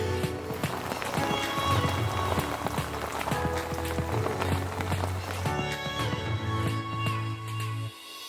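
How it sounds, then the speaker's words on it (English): Heavy, non-stop rain pours down outside during an overnight carp fishing session in Oxfordshire, a dense, steady patter of drops drumming on a nearby surface that continues unbroken, then eases slightly at the end. "as you can probably hear, it's absolutely tipping it down out there, and it's been non-stop rain all night"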